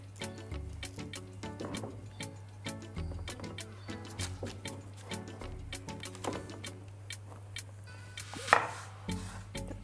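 A knife taps a floured board in a quick, irregular series of sharp chops while marking vegan bread dough, over a steady low hum, with one brief louder scrape near the end.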